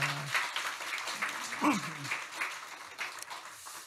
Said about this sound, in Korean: 오늘 우리 경외의 박수 하겠습니다